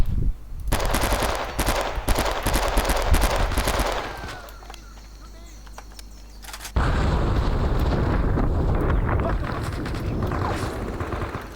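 Automatic weapons rattle in heavy, continuous bursts during a Vietnam War firefight in Men of Valor at Cu Chi, loud and close, breaking off briefly before another sustained volley with booming impacts.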